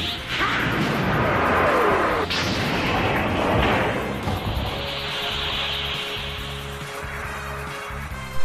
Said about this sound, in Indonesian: di sini Baby langsung menembakkan sebuah tembakan laser hingga membuat mereka langsung terpental